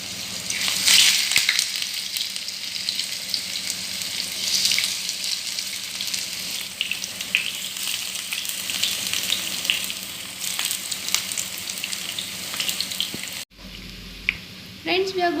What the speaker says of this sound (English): So we are going to fry it in less oil.